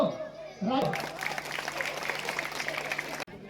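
Audience applause fills a hall at an award ceremony run by a cultural arts centre. Steady clapping starts abruptly and continues for about three seconds before cutting off.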